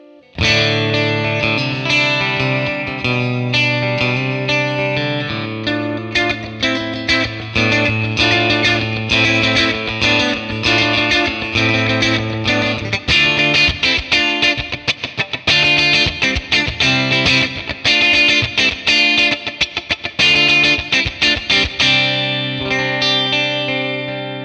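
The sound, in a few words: electric guitar, middle pickup, 1966 Fender Blackface Bassman amp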